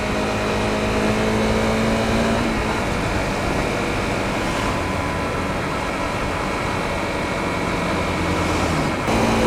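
A Honda CRF250L motorcycle with a 13-tooth front sprocket is ridden in sixth gear, its engine drone rising in pitch as it speeds up, then settling into steady wind-blown road noise.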